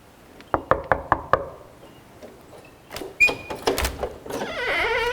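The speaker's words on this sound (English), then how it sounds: "I'm going to give it a knock" Knuckles rap on the front door of a historic plantation mansion at Somerset Place State Historic Site: five quick, sharp knocks close by, then quieter shuffling and door noises.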